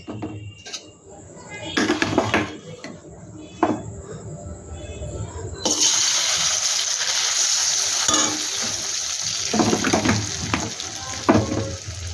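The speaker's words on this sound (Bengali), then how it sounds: "তেলটা আমার গরম হয়ে গেছে আমি এবার ডালটা আমি দিয়ে দেবো কড়াইতে" Red lentils hit hot oil in a wok, giving a loud, steady frying sizzle that swells after about six seconds, with brief clatters at the start and spoken commentary running over it.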